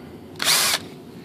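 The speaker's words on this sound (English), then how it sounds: "Kind of like deburring the hole with that drill bit there" A power drill with a bit deburring a hole during a composite glider rudder build whirs in one short, loud burst lasting about a third of a second, with quiet before and after.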